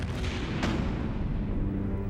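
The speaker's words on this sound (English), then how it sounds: "the Redoutable is raked by devastating cannon fire from the Victory" Cannon fire in a battle between wooden sailing warships, heard as a dense, continuous roar with heavy low rumble and a couple of sharper blasts, loud and sustained throughout.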